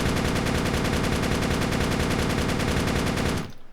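Sustained automatic AK rifle fire in the video game Darkest Days, a loud, rapid, evenly spaced burst of shots lasting over three seconds before stopping abruptly.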